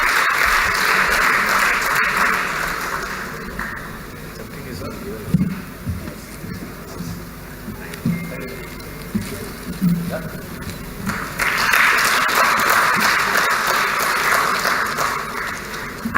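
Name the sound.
audience applause at panel discussion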